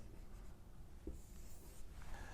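Chalk or marker scratches across a board during a lecture on radiation sources and electronic excitation, a faint run of short strokes and taps with a quiet room behind.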